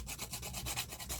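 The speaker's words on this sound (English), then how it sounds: "You can rough up the edges a bit." Close, soft rhythmic rubbing as the edges of a miniature paper scroll are roughed up, quick repeated scraping strokes in a steady back-and-forth pattern.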